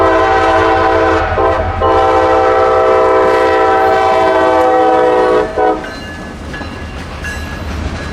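A freight train of jumbo covered hoppers passes a crossing in an industrial part of West Tampa, its horn blaring loud and sustained before it cuts off and the wagons rumble on with rail clatter.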